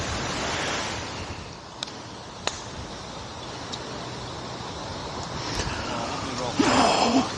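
Wind blowing steadily across an open golf course makes a constant broadband rush with a few faint clicks and a stronger gust near the end.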